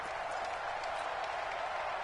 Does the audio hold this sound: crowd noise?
yes